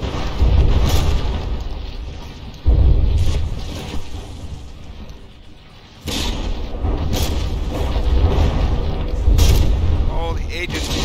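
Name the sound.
mortar shells exploding on battleship in video game From the Depths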